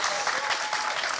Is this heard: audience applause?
yes